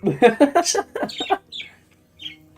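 Squawking, clucking bird calls from the P-Bird containment in the Limbus Company video game, a quick run of loud chirps that thins out into a few scattered, fainter calls.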